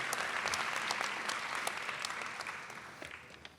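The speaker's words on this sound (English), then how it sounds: "Can we get a loud round of applause for faculty, staff, and students who have helped put this ceremony on tonight?" Audience at a graduation ceremony claps steadily, a dense wash of many hands that starts strong and fades gradually toward the end, with no voices over it.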